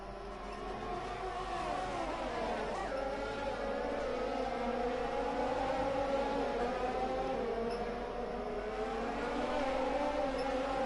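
An F1 race car in a Formula 1 video game pulls alongside with DRS open and overtakes on the straight, its engine screaming in a steady high rising whine that swells near at about three seconds and runs continuously.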